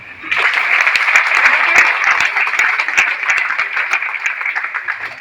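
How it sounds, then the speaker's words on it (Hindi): A seminar audience bursts into dense, sustained applause, many hands clapping loudly and evenly for about five seconds. "एक बार ताली बजाओ।"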